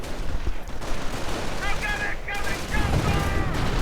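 Gunfire in a World War II strategy video game battle, with rapid crackling bursts of small-arms and machine-gun fire mixed with rumbling blasts, while a voice talks over part of the action.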